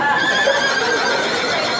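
A horse neighs loudly and close by on a mountain trail, one sustained whinny filling the short moment with no talk over it.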